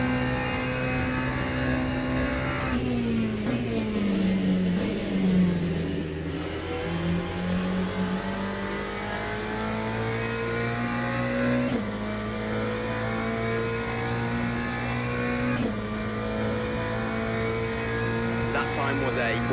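A McLaren 720S racing around Monza in the video game Le Mans Ultimate: a loud, continuous engine drone that climbs in pitch, with several gear shifts dropping the tone before it builds again.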